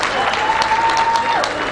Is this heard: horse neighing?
no